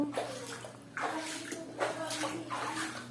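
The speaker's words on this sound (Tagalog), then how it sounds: "Baha uli!" Floodwater flows and sloshes steadily around a home after a flood returns, a close, continuous watery rush with people's voices speaking over it.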